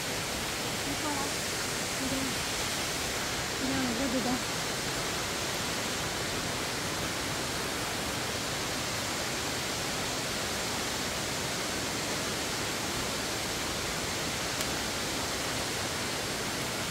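A waterfall in a tropical forest on a volcanic island gives a constant, dense roar that stays level throughout, with faint voices in the background.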